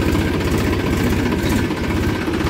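A Massey tractor engine idles steadily and loudly, with a low, even throbbing pulse and mechanical vibration running throughout, and no voices.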